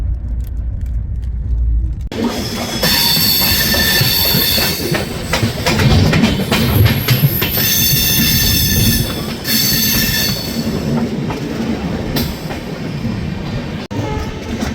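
The Mahakaushal Express runs into Palwal with a loud, close rumble of wheels, rhythmic clickety-clack over rail joints and high squeals from the wheels, continuing steadily with no talk.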